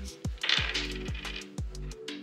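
Dice rolled during a board game, with several sharp clattering knocks at irregular intervals as they tumble and settle, some faint rattling between the hits, and no talking.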